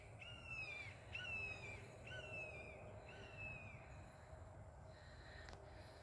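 Bird calls ring from trees near a house with pine trees, a series of harsh, falling caws repeated about four times at moderate distance over low background hum.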